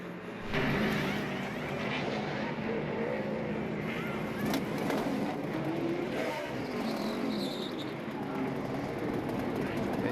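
Loud NASCAR Sprint Cup race car engine idling and revving unevenly on pit road at Charlotte in 2009, with a fault causing a rough, sputtering drone and occasional bursts, amid background crowd noise.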